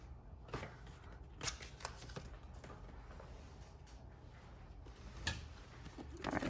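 Chakra wisdom cards are shuffled, giving soft, continuous papery riffling and flicking at close range, quiet and steady with small clustered bursts throughout.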